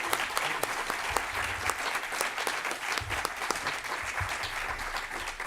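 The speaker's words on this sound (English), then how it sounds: "So please an applause for Ginés Guerrero" Sustained applause from a conference audience honoring the general chair, steady and fairly close, with dense clapping filling the whole stretch and a few louder individual claps standing out.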